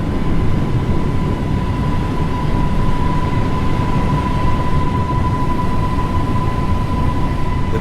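A train rumbles past in a Train Sim railway game near tube tunnels and a main platform, a loud, steady low roar with a thin constant tone running above it, no voices.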